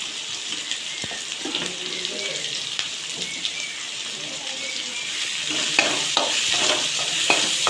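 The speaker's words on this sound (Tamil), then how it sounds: "தக்காளி கொஞ்சம் நல்லா வதங்கி கரைஞ்சி வந்துச்சுன்னா நல்லாயிருக்கும் கிரேவிக்கு" Tomatoes sautéing in a pan for a gravy side dish, a steady soft sizzle with occasional stirring scrapes, fairly close and moderately loud throughout.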